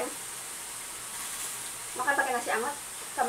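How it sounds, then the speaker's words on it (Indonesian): Continuous soft sizzling of tempeh frying in oil, with short bursts of stirring or clattering toward the end. "Goreng tempe"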